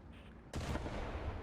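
A tank cannon firing in the War Thunder video game, a sudden loud boom after a quiet moment, followed by a rumbling decay.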